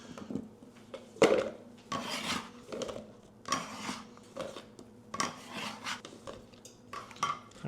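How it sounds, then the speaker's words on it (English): Cut potato pieces are dropped and shuffled into a plastic deli container, giving a series of close, light rattling and rasping scrapes in irregular bursts. "After we cut them up, we're gonna stick them in a container."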